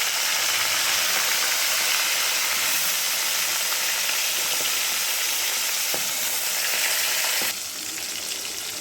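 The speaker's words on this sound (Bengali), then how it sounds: "তেল গরম হয়ে গেছে, এবারে মাছটা ছেড়ে দিই। সবগুলো মাছ আমি ভেজে নেব।" Fish sizzles and spatters in hot oil in a pan, a loud continuous crackling hiss that drops slightly in level near the end.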